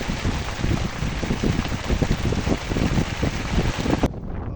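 Steady rain pours down with gusting wind during a storm at a fishing spot, a dense, loud hiss with buffeting microphone noise, which cuts off abruptly near the end.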